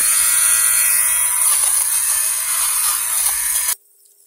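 An electric lint remover buzzes steadily at close range as it shaves pills off sleeve cuffs, a loud high-pitched whir that holds for several seconds, then cuts off abruptly into silence.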